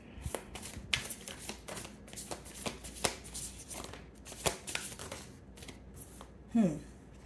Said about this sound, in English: So we have three cards here, guys.